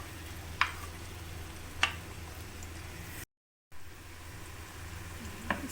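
A large chopped onion fries in cooking oil over a medium flame, a faint steady sizzle with a few soft ticks and clinks of the pan, briefly cut to silence partway through, no voices.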